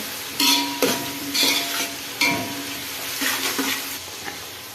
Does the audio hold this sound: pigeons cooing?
no